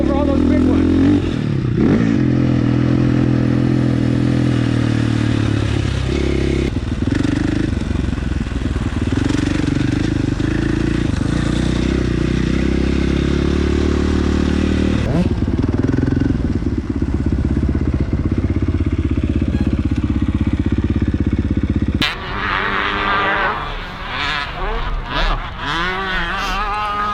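A two-stroke motorcycle on a dirt track, its engine droning loudly and steadily with shifting pitch, then cutting off near the end as clattering and other noises take over.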